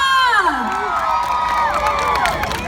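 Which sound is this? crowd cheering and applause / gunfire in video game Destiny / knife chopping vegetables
crowd cheering and applause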